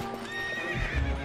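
A horse in the video game Twilight Princess gives a rising whinny over clip-clopping hooves, with a low rumbling thud near the end, moderately loud and heard without talk.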